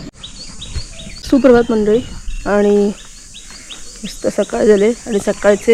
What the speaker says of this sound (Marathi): सात वाजलेले आहेत आणि पक्ष्यांचं किलबिलाट तुम्ही ऐकते